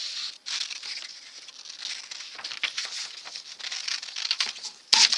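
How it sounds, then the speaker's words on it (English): Big scissors cut through a sheet of copy paper, giving a run of quick crisp snips and rustles at close range, ending in a sharper louder crinkle. "with some big scissors I'm going to just cut it out"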